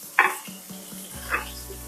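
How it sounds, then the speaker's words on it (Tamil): Shallots, tomato and curry leaves sautéing together in a pan, a close sizzle broken by a couple of sharp spoon scrapes and a few soft rhythmic stirring knocks. "இப்போ நான் வதங்குறேன்"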